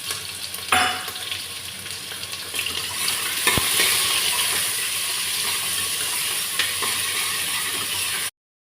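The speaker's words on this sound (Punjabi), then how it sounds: "ਮੀਡੀਅਮ ਗੈਸ ਤੇ ਆਪਾਂ ਥੋੜਾ ਜਿਹਾ ਪਿਆਜ਼ ਨੂੰ ਤੇ ਆਲੂ ਨੂੰ ਭੁੰਨ ਲਾਂਗੇ" Onions and potatoes frying over medium gas with whole spices, cumin and capsicum, for salted rice cooked without water: a loud, continuous close sizzle with an occasional knock of a spoon against the pan, then sudden silence.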